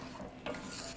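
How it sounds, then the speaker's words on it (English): A spoon stirs sugar, cornstarch and cinnamon into peaches for a peach cobbler, making a brief, close scraping swish. "you just start stirring all the sugar, cornstarch / a little bit of cinnamon on there, and just coat it through"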